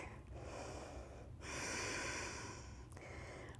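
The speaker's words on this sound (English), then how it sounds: "continue your Ujjayi breath" Ujjayi yoga breathing during wall yoga practice, heard up close as long breathy ocean-like inhales and exhales in a slow steady cycle, quiet overall with no talk.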